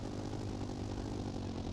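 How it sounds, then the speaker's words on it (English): Heavy, worn-sounding tank engine from the video game Sprocket, likened to a tractor, running steadily with a dense low rumble and constant level throughout, no voices. "it sounds like a tractor, like a very heavy, worked out engine"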